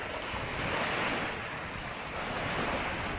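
Large sea waves surge and crash steadily during a typhoon at a coastal boat landing, a broad continuous roar of surf mixed with gusting wind buffeting the microphone, loud and close with no voices.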